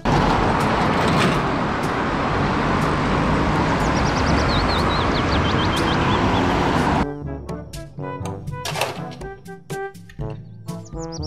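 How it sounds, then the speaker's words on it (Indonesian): A double decker bus rumbles in a loud, broadband roar with some birdsong chirping over it, then cuts abruptly to a quieter scene of scattered clicks and tones. "Mobil bus tingkat. Double decker bus."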